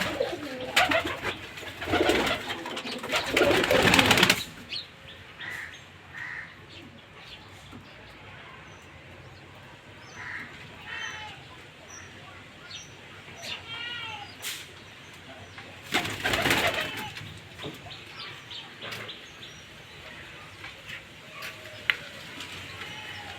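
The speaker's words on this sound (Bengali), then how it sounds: "তাহলে চলুন আমার কবুতরের ঘর দেখি, কবুতরগুলো দেখা যাক।" Pigeons in a rooftop coop coo softly and repeatedly at close range, with bursts of rustling and wing flapping and occasional chirps between the calls.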